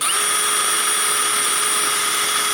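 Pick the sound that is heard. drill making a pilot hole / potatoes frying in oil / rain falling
drill making a pilot hole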